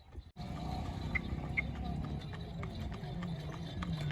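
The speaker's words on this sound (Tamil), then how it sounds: "குதிரை வண்டியில போறோம்" Horse hooves clip-clop in a steady trotting rhythm as a horse-drawn cart rolls along, close and clear over a low rumble of wheels, with people's voices chatting intermittently.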